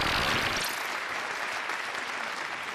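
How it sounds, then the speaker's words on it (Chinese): Studio audience at a Chinese TV job-hunting show clapping together, a dense, steady wash of applause that starts loud and tapers slightly over a few seconds. "同样热烈的掌声送给邵伟老板。"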